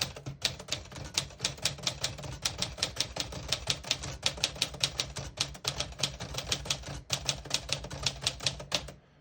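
A 1953 Smith-Corona Silent-Super portable typewriter typing a sentence in quick, steady bursts of crisp keystrokes, close and clear, with a brief pause midway and no voices.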